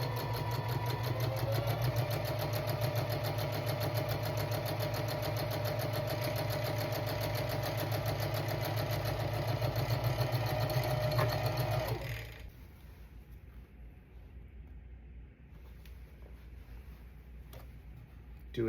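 A sewing machine runs a straight stitch with backstitching, a fast close mechanical whir and tick running steadily for about twelve seconds before stopping, leaving a quiet room.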